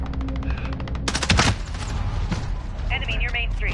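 Machine gun fire in a PS4 multiplayer deathmatch game, a rapid rattling burst followed by a heavy blast and ongoing game noise, with voice callouts mixed in.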